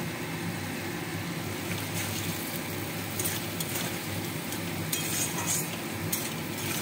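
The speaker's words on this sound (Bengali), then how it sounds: "মশলাটা কষিয়ে নেব" Ground paste of ginger, cumin and chili with turmeric, sugar and salt frying in a pan alongside fried potatoes and nuts, a soft continuous sizzle with faint scraping stirs, close and fairly quiet.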